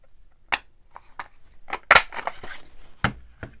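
A square craft punch and cutting tool snap through paper in sharp, separate clicks and crunches, about eight close, loud hits at uneven intervals with no talk.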